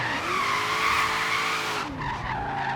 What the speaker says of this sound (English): I'm just testing out my muscle car here.